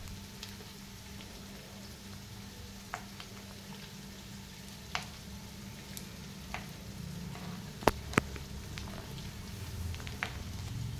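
Onions and curry leaves frying in a pan for chicken pulao, a steady low crackling sizzle close by, punctuated by sparse sharp pops and a couple of spoon clicks.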